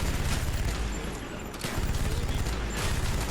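Loud, rapid bursts of gunfire from a weapon in Call of Duty: Black Ops on the Vorkuta mission fill the scene, with a short lull midway before the shooting resumes.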